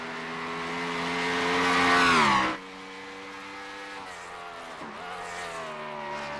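A race car laps Watkins Glen during qualifying, engine note rising loudly through revs before dropping abruptly on a downshift, then holding a steadier drone into the next corner.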